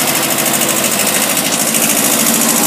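A Kubota B6000 tractor engine runs close and loud with a steady, rapid knocking chug that holds even throughout, with no voices over it.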